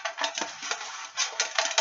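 Paper tickets shuffled for a Christmas prize draw, a steady papery rustling and crinkling with a few louder bursts, close and continuous with no voices.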